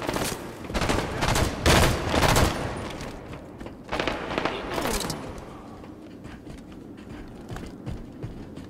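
Hostile gunfire in the tactical shooter SWAT, a series of rapid overlapping shot bursts in the first few seconds, then a second volley, before fading into quieter background rattle.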